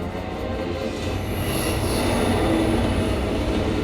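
A moving train in an animated series, a steady loud rumble of wheels on rails with a thin metallic squeal rising midway, continuous throughout with no voices.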